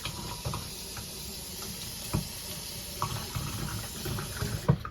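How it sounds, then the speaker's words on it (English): A Ganzo G806 folding knife being rinsed under a sink tap, heard as a steady, fairly quiet stream of running water with faint splashing and a few small knocks. "We're going to give it a little rinse since I'm here by the sink."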